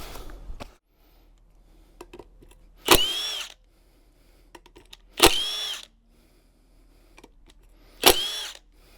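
Power tool undoing the rear sprocket bolts on a Suzuki GSX-S 125 motorbike: three short, loud whirring bursts, evenly spaced with quiet gaps between.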